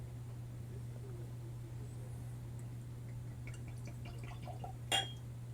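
Distillery liquor, a low-proof spirit from a freshly opened bottle, trickles and drips into an empty glass, a quiet splash and clink near the end over a steady low hum.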